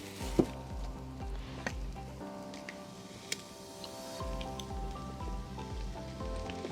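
A bacon, egg and cheese toastie fries on a DIY camping stove made from a gift-set tin, giving a steady, fairly quiet sizzle with scattered light ticks and pops and no talk.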